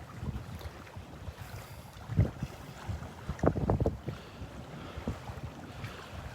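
Gusty northeast wind on a beach at Wiggins Pass, Delnor-Wiggins, buffeting the microphone in uneven bursts, with the strongest gusts arriving in the middle of a low, rumbling background.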